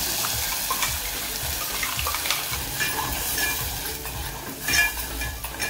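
A drumstick soup mixture sautés in ghee in a heated pot, giving a soft, continuous sizzle with a few scraping stirs and small clinks, fairly quiet and close with no talking.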